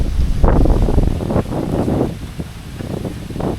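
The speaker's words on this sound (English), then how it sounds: "And the wind is picking up." Gusty wind buffets the microphone in uneven bursts, loud and close, with a low rushing roar and no talking.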